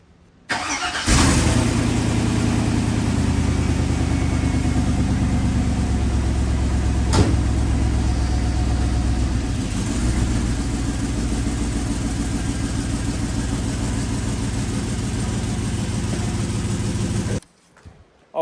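LS-swapped motorhome engine with custom exhaust firing up for its first start, then settling into a loud, steady, rumbling idle close by, a single sharp burst partway through, with no talking.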